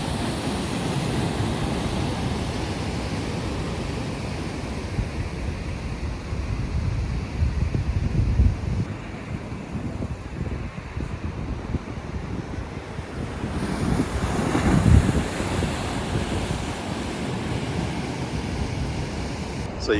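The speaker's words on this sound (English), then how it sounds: "Look at these waves." Heavy ocean surf rolls in a continuous roar, with larger waves crashing around the middle and near the end, offshore wind gusting across the microphone.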